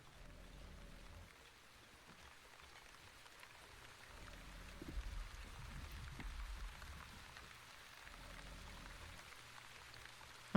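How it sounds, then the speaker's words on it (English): Rainstorm in the video game The Wandering Village: a steady, soft wash of rain patter with low rumbling swells, fairly quiet and continuous, with no talking. "we got another rainstorm"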